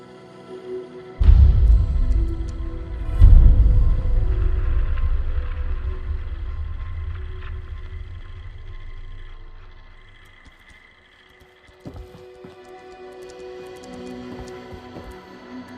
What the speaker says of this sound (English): What you're hearing there are radio signals from all the nearby ASAMs.